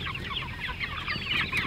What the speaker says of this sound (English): They're meat chickens.